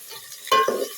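Whole chillies fry in a hot oil tempering of mustard and fenugreek on a stove, giving a brief stir and a short burst of crackling sizzle close by.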